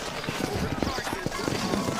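Horses' hooves clip-clop steadily at close range in the Western video game Red Dead Redemption, a quick rhythmic patter over busy background noise and game ambience.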